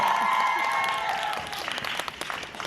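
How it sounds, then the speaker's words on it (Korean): An audience applauds a performing artist at a live music show, warm clapping rising beneath a fading held tone and overlapping voices. "다시 한번 뜨거운 박수 부탁드리겠습니다"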